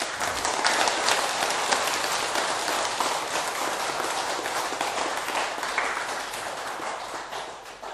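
An audience at a talk bursts into clapping, a broad steady patter of many hands that sounds almost like rain, fading slightly toward the end.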